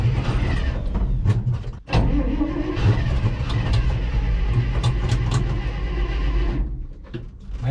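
An old truck engine cranks over and over on the starter, trying to catch after months sitting without fuel, with starter fluid sprayed into the intake. The churning is loud and close, with one brief break near the start.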